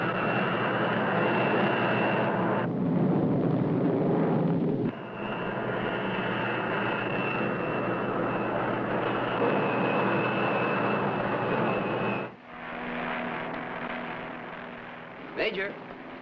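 Jet-powered X-plane test aircraft roaring over the California desert, a loud, steady engine drone with shifting whine and a brief surge near the end.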